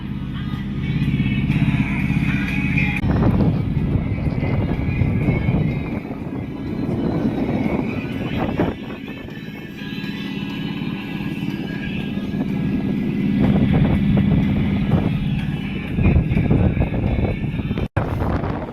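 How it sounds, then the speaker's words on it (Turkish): A boat's engine drones steadily as the boat motors along at about five knots, a continuous low rumble with wind buffeting the microphone throughout. "Şu anda yaklaşık 5 nat hızla gidiyoruz motorla."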